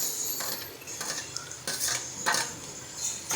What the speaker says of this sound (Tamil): தக்காளி போட்டு அப்படியே வதக்கி விடுங்க.